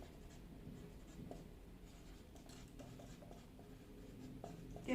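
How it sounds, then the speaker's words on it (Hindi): A teacher writes notes by hand during a growth and development lesson, giving a soft, continuous scratching of pen or chalk with small taps, close and quiet, with no talking over it. "शॉर्ट में लिखती हूं मैं इसको भी"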